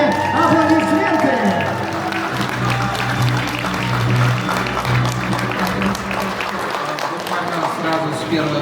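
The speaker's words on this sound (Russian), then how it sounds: "Ваши бурные аплодисменты!" Audience applause and cheering greet the best animated film winner at a short film festival closing ceremony, a loud, steady crowd sound mixed with tonal music throughout.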